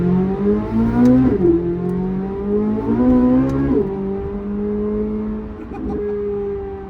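A C8 Corvette Z06 fitted with 91mm ported throttle bodies accelerates hard in manual mode, its engine note climbing through rising pulls with sharp drops at each upshift, loud and close.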